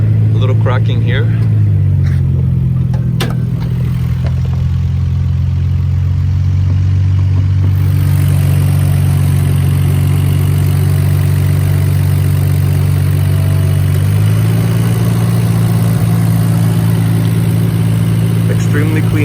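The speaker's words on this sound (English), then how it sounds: "Engine running very, very good." A 2001 Nissan Skyline R34 GT-R V-Spec II engine idles steadily up close, a smooth low hum that shifts pitch slightly partway through, with someone talking over it.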